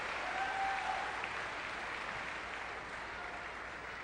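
Audience applause fills a squash World Open final between Amr Shabana and Gregory Gaultier, a steady broad clapping from a large crowd that holds for four seconds and tapers slightly toward the end.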